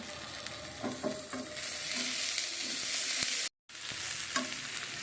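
Khalisa and pabda fish sizzle and crackle as they fry in a pan, with steady close frying hiss, a few light stirring clinks, and a brief dropout near the end.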